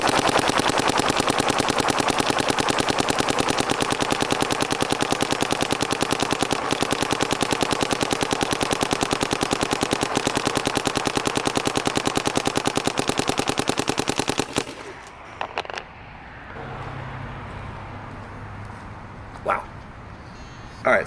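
A paintball marker fitted with a test barrel fires a long, loud, rapid string of shots for about fifteen seconds, then stops, leaving quieter handling noises and a couple of faint clicks.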